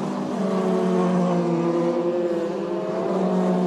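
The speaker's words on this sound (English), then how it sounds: "The three of them accelerating now up towards the end of the lap" Formula 3 race cars in the 2005 Euroseries accelerate, making a loud, sustained high-pitched engine whine that holds steady for a few seconds with no voices over it.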